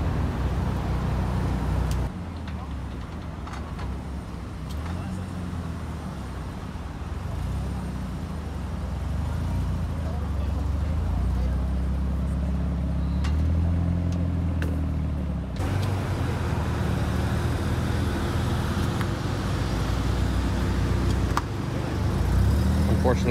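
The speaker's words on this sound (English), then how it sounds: "Unfortunately, more and more RX-7s leaving the place now." Mazda RX-7 cars pull away from a night car meet at Daikoku PA, heard as a continuous rumble of engines and traffic with some passes louder than others, and people talking over it.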